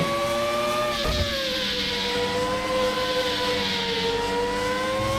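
A 1994 Formula 1 car engine in the sim racing game rFactor 2, a loud high-pitched whine held near, with one quick dip as it shifts before climbing again.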